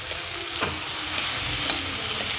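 Okra being stirred and fried in a pan with salt, a loud continuous sizzle close by with a few light scraping taps from the spatula, no speech.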